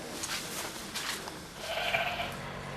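Sheep bleat in a run-down barn with a collapsed roof, bare floor and deep muck, several soft, wavering calls spread across the moment, fairly distant and faint over a quiet hum.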